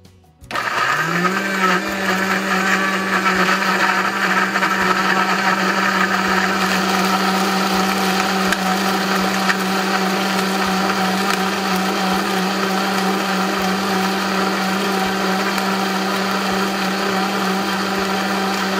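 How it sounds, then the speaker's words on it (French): An electric blender steadily purees chili hot sauce ingredients with a splash of water, a loud, constant motor whine that spins up in the first second and holds without a break. "je vais tout mettre dans mon mixeur tranquillement et mixer le tout"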